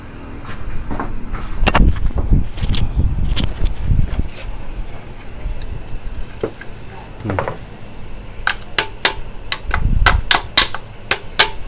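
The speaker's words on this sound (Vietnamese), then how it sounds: "chúng ta sẽ sử dụng cái búa, chúng ta gõ nhẹ cho nó đều." A light hammer taps on a part from a Ricoh copier, with scattered knocks early on and then a quick series of sharp, close, evenly spaced taps toward the end.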